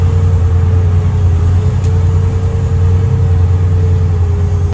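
A grain truck at harvest pulling into a grain elevator, its engine a loud, steady, low drone that holds level for several seconds with no talk.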